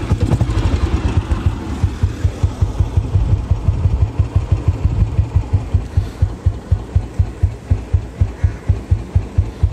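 A Royal Enfield Bullet single-cylinder motorcycle engine idles nearby with a loud, steady, thumping beat, each slow pulse distinct and evenly spaced.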